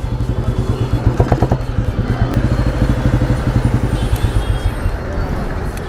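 An old Bullet motorcycle engine thumps loudly and steadily up close, with a strong low rhythmic beat and brief revving bursts; the bike is said to have clutch and gear oil leaks.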